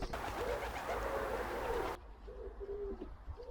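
Racing pigeons coo back at the loft after a race, soft low repeated coos close by under a steady outdoor background hiss that drops away partway through.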